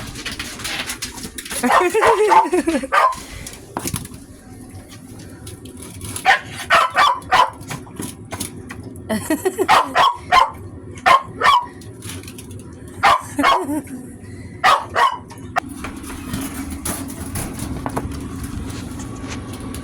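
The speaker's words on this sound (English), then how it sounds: "as you can tell by the noises Coda's making, he is so impatient" A dog whines and gives bursts of short barks and yelps in an irregular series, close by, with people talking in the background.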